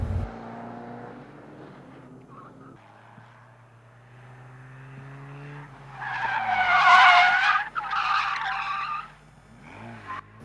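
A race car at a racing school skids sideways on hard rubber tyres, the engine rising and falling before loud tyre squeal erupts in two close bursts, then fades as the car settles.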